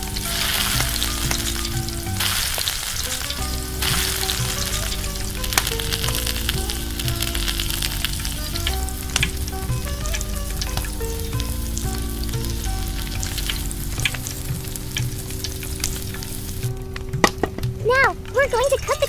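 Chicken wing meat fries loudly in a pan, a continuous hissing crackle under a steady low hum, with a few sharp spattering pops near the end.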